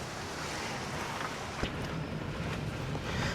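Strong wind buffets the microphone outdoors as rain begins at an evening fireworks outing, a steady loud roar with occasional gusty bursts and no talk.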